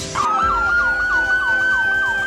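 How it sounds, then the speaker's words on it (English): A loud police siren wails steadily, its pitch rising and falling in a quick repeating cycle over a low rumbling engine. "Police car."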